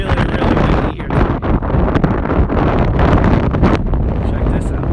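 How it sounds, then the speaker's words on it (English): Strong gusts batter the microphone outdoors on a very windy day at the Pima Air and Space Museum, a loud, rumbling roar that drowns much of the scene, with a voice partly audible under it. "You're going to hear a lot of wind noise."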